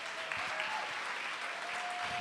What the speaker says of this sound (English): Give the Alderman a round of applause.